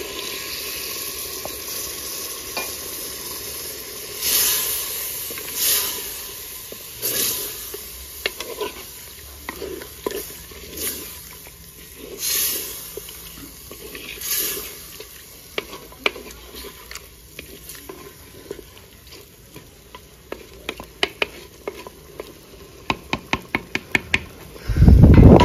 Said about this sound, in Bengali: গুলে রাখা মশলাগুলো দিয়ে দেবো।